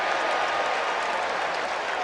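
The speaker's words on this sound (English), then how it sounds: "A portion of the crowd is doing that sing-song Dewey for Dwight." Large baseball crowd at Shea Stadium during Game 6 of the 1986 World Series, Red Sox versus Mets, with a dense, steady roar and chanting from a portion of the fans, continuous and fairly distant throughout.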